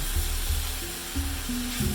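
Seasoned chicken and onions sizzle in a hot pan for butter chicken, a steady frying hiss with soft stirring scrapes and a faint hum running underneath.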